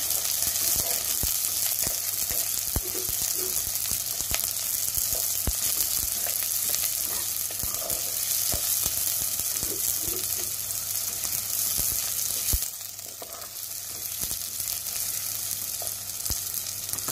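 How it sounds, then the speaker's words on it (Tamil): Onions sautéing in a frying pan for a Sri Lankan Jaffna-style beetroot curry, a steady bright sizzle with occasional stirring clicks, constant and close, dropping slightly quieter near the end. "நாங்கள் ஒரு டூ மினிட்ஸ் இந்த வெங்காயத்தை வதங்க விடுவோம்"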